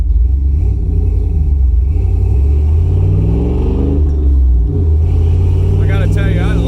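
Steady low engine rumble from a 1997 Dodge Dakota truck being driven on a warm day, the drone shifting pitch as it accelerates, loud and continuous throughout.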